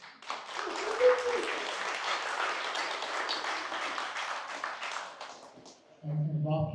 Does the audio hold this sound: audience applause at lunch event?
yes